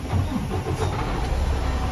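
A Detroit DD15 diesel in a semi truck cranks and catches, settling into a loud, steady, rough running rumble heard close up, with no talking over it.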